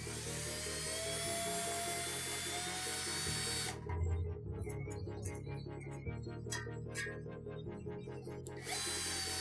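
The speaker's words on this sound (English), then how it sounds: "one of the first things I'm going to try to do is hone the cylinders here" Drill spinning a small honing bit inside the hydraulic cylinders of a CAT 299D front coupler, a steady whirring motor whine with a dip as pressure is added partway, then rising again, close and continuous with no talking.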